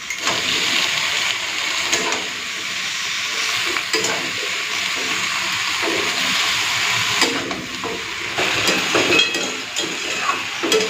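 Potato and eggplant fry in a pan with Malabar spinach and green chillies, giving a loud continuous sizzle with stirring scrapes and clatter, close up.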